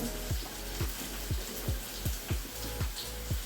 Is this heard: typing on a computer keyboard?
no